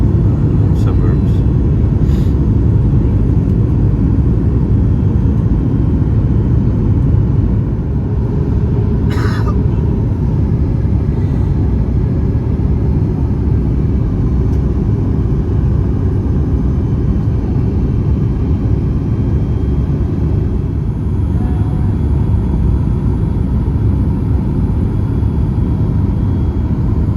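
Steady loud airplane cabin rumble during a flight on arrival in China, a constant low roar throughout with faint brief sounds over it.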